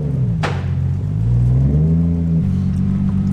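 Nissan Skyline R33 engine revs up close after a performance clutch install, its pitch climbing and sliding through a couple of throttle swells, with a sharp click near the start.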